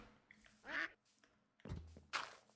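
A duck in a video game quacks twice, a short nasal call followed by a second one about a second and a half later, clear and close with quiet gaps between.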